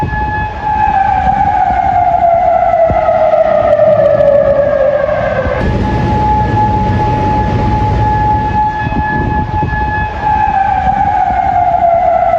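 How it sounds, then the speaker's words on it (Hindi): Loud sirens wail continuously in Kuwait after Iranian attacks, their pitch sliding down and rising again over a rumbling background, with no one speaking. "सायरन बजते हुए सुनाई दिए हैं।"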